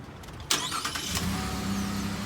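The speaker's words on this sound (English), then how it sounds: "We're going to put the key in ignition and attempt to start it." A car engine cranks with a sharp burst on a jump start, then catches and settles into a steady mid-pitched idle.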